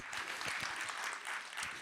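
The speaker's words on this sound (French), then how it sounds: "Et on peut les applaudir, bien sûr." An audience at a short-story prize ceremony claps steadily in a continuous dense patter, fairly faint and distant-sounding, without any talking.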